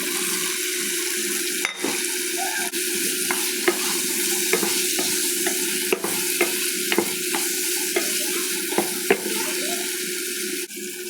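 Bitter gourd fries in a curry pan with chili paste and curry powder, a dense continuous sizzle with frequent small stirring clicks, close and steady throughout.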